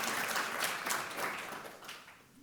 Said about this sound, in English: Give them a bigger round of applause, please.